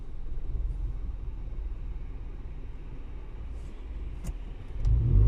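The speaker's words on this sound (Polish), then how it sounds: "ulicą Kasprzaka cały czas jadą mi samochody" Cars driving along Kasprzaka street in Dąbrowa Górnicza, a steady low engine and tyre rumble from passing traffic at moderate distance, swelling louder near the end as a vehicle comes close.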